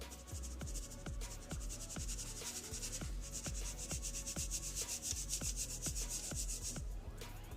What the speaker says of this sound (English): just sieve this together